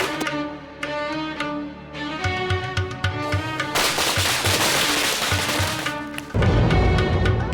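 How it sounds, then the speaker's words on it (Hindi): Firecrackers burst in rapid, crackling volleys during a festive fireworks fight, sharp pops rattling loudly over a droning musical backdrop and building into a dense barrage. "तुम भी पटाखे जलाओ,"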